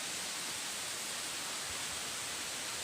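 Banyumala waterfall roars as a steady, faint, even wash of falling water, unbroken for the whole stretch with no voices.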